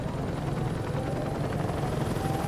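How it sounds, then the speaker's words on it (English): A helicopter in the video game Saints Row 2 drones steadily with a dense, continuous rotor roar that stays loud and even throughout. "the helicopter shows up"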